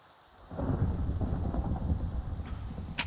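Thunderstorm in the Minecraft horror mod Evil Hunter: after a brief quiet moment, heavy rain and a rolling rumble of thunder swell up and hold steady, loud and enveloping, with no talking.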